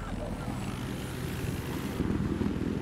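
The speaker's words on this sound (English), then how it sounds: "Looks like there's a helicopter we can engage." Helicopter flying in a video game, a steady rotor and engine drone running throughout, fairly loud and continuous, with game sounds mixed in.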